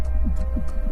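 A heartbeat sound effect, soft rhythmic low thumps repeating about three times a second over a steady electronic hum, with faint airy pulses above.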